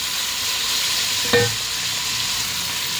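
Tomatoes sauté in a pan for Sri Lankan mutton curry with a constant close sizzle, broken once by a single short clack of a utensil against the pan.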